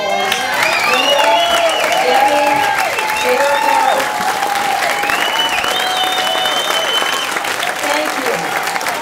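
A gala crowd honouring women from surfing gives a long, loud round of applause, with voices and cheers running over the steady clapping throughout.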